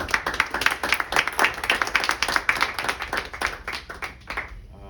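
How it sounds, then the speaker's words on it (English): A room full of people at a juvenile justice town hall meeting claps together, crisp and rapid, fading out near the end. "Clap it up."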